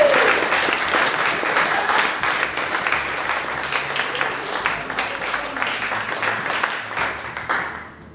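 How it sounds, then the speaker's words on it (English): Festival crowd at a live music event in Bolton, UK, gives a full round of applause, dense and sustained clapping that tapers off at the close. "So let's have a round of applause for them."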